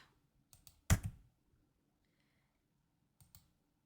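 One sharp computer keyboard key press stands out clearly in a quiet room, with a few lighter clicks before it and a pair of faint taps near the end.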